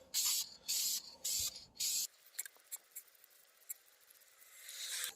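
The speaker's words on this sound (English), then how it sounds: "Now let's go with the second coat of high temperature paint." High-temperature spray paint hisses from an aerosol can onto a brake caliper in four steady bursts of about half a second each, followed by quiet scattered taps and rustles and a faint rising hiss at the end.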